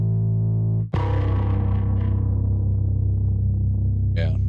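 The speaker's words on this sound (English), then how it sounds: "I was trying to get a nice big fat bass sound, but that really doesn't make any difference," Big, fat distorted bass synth sound in a mixing session, a sustained low drone that cuts out briefly then returns with a bright distorted attack and gritty decaying overtones, loud and alone.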